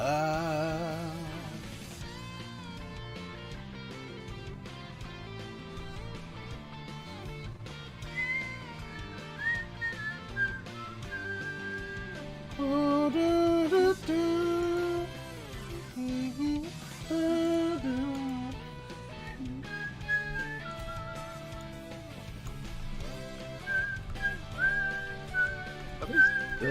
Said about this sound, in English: What happened to Sonic music that used to sound like this?